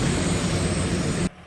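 A helicopter landing in Macaé, a loud, steady roar of engine and rotor wash that cuts off suddenly near the end.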